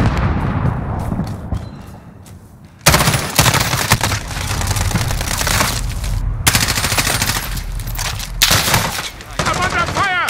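Dense gunfire in the video game Call of Duty: Modern Warfare, with rapid bursts of automatic fire and shots that continue almost without pause, loud and close, broken by a few sharp cuts, while voices speak underneath.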